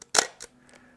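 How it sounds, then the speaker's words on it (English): One release of a Zenit TTL film camera's shutter gives a crisp, sturdy mechanical snap and a lighter closing click about a quarter second later, heard close with nothing else. "It sounds like a sturdy shutter."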